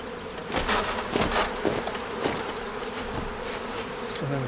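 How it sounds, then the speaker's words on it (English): A dense swarm of honeybees buzzes loudly and continuously as they are shaken into a nuc box, with a few louder thumps and rustles as the insects are jostled, close up and without talk. "And then we're going to shake the bees in."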